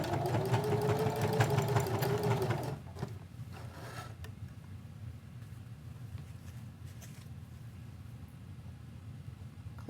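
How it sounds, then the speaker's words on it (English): A sewing machine back stitching to secure a seam on a pen holder pocket hums rapidly for a few seconds, near and steady, then stops, leaving quiet low room noise and faint handling sounds. "we're going to just cross our stitching and back stitch to secure it"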